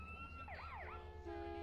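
A police car siren in GTA San Andreas wails through a couple of rising and falling sweeps, then settles into a steady tone. It sounds fairly close, over a low rumbling game background, with no talking.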